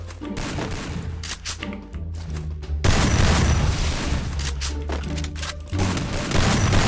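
Gunshots and explosive booms in a video game fire in rapid bursts and heavy thuds, loud and dense, with short gaps between volleys.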